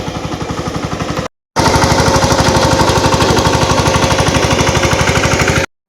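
A tractor engine works a farm field in the Konkan region with a loud, close, rapid pulsing chug that cuts out for a moment before resuming and running evenly to the end, with no talk.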